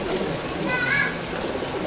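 Red-eyed Pakistani pigeons coo in a low, steady murmur nearby, with faint voices in the background.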